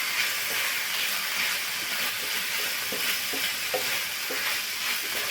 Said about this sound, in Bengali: আরও একটু নাড়াচাড়া করে নেব।